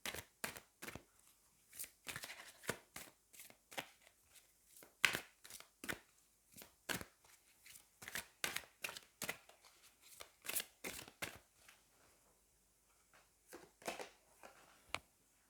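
Tarot cards being shuffled by hand, a long series of crisp close riffles and slaps in an irregular rhythm, quiet between strokes.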